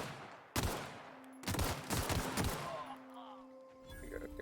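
Gunfire in The Outer Worlds video game: a single sharp shot, a pause, then a heavy clattering volley of rapid shots, fading into a humming background with a few more bursts at the end.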